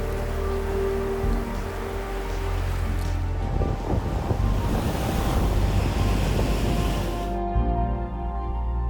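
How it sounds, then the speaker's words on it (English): Atlantic Ocean surf breaks against a shoreline beside the Viana Desert on Cape Verde, a loud continuous wash and rumble of waves swelling midway, mixed with heavy wind buffeting the microphone. "the Atlantic Ocean expands with endless layers of blue waves crashing against the shoreline"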